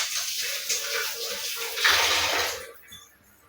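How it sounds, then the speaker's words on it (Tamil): Water poured into an iron kadai, about one or two tumblers' worth, makes a close, splashy gushing stream that swells briefly in volume, then tapers off into a quiet trickle. "1 to 2 டம்ளர் அளவுக்கு தண்ணி வந்து சேர்த்துக்கோங்க"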